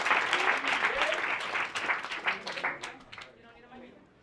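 An audience claps for team 3 at an education design workshop. The applause starts full and loud, then thins into scattered claps and fades near the end.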